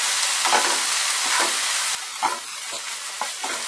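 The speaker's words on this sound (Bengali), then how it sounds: "হাই ফ্লেমেই আমি এগুলোকে ফ্রাই করে নেব" Dried fish frying over a high flame gives a continuous bright sizzle broken by several short scraping stirs of the pan, close and clear, with no talking.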